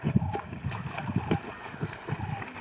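Someone wading through a cold river outdoors, legs sloshing and splashing through the water in uneven surges, close and steady, with faint voices underneath.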